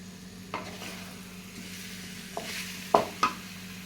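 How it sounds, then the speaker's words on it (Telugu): Green chillies sizzling in a pan of potato egg curry, a steady low frying hiss with a few sharp spoon clinks against the pan, close up and without voices. "ఇప్పుడే పచ్చిమిర్చి కూడా వేసేస్తున్నానండి నేను."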